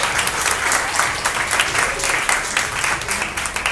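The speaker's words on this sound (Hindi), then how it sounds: "सभी एक बार पारंपरिक लाठी खेल संघ के लिए दिल से तालियां।" An award-ceremony crowd applauds the traditional lathi sports association, steady dense clapping throughout at close range.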